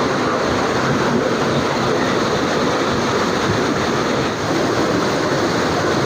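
A waterfall plunging down forcefully, a dense, loud, unbroken roar of falling water heard up close with no pauses.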